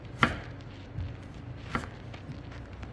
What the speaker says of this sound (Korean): 다 썰고 이제 편으로 썰었으니까